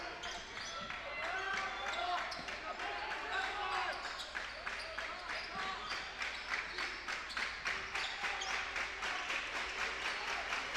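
A boys high school basketball game crowd, Kearsarge vs Hopkinton, with the Hopkinton crowd loud on defense: a sustained roar of cheering and rhythmic clapping, sneakers and ball bounces mixed in, with talk over it.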